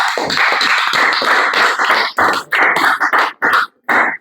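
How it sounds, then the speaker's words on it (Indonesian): A class of tenth-grade students clapping together, dense close applause that thins into scattered claps and taps before dying out, without talk. "Kasih aplaus dulu buat kita semuanya"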